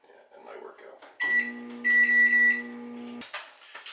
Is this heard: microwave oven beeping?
yes